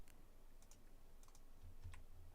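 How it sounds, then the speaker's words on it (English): Fingers typing on a computer keyboard, a handful of quiet, light key taps in small irregular bursts over a steady low background hum. "I'm typing chi."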